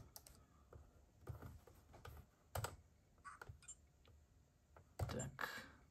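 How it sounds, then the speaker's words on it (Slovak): Keys clatter on the keyboard of an Acer NoteLight PC370 retro laptop, irregular bursts of quiet close clicks and taps with short pauses between, faint and without speech. "môžeme otestovať klávesnicu, áno, krásne nám to funguje."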